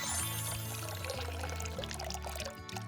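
Water pours steadily into a bucket for compost tea, a continuous splashing gush with a low resonant tone from the filling container, no talk.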